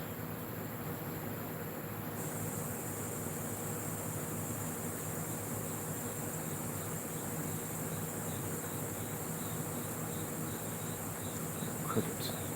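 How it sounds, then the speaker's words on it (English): Crickets chirp in a steady, faint, continuous trill under a soft background hiss, with no talk, heard through a quiet room. "crickets."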